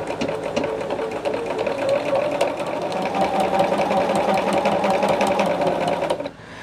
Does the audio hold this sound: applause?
no